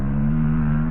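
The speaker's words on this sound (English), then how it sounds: "You could probably hear the dirt bike." A dirt bike engine holds a steady, droning rev throughout, loud and continuous, with a strong low tone and no talk over it.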